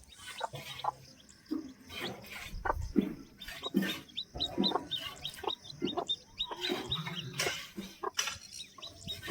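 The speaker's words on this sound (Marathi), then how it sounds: "बघा किती सुंदर मित्रांनो देखणी कोंबडी" A country hen clucks in a village yard in the morning: irregular bursts of short clucks, close and fairly loud, with brief quiet gaps between them.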